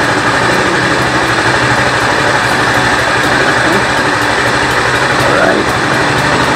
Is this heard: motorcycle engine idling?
yes